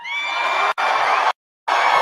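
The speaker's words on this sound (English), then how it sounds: "That's a big crowd" Large crowd cheering and shouting at an outdoor Trump campaign rally, loud and sustained with whoops and yells, cut by a brief gap and then a longer silence before the roar resumes.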